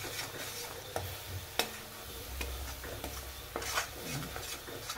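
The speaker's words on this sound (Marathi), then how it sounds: "सगळा मसाला टाकला की व्यवस्थित मिक्स करून घ्यायचं" Ground masala is stirred into a crab curry in a pan, with a low sizzle under scattered spoon scrapes and taps against the pot, no talking.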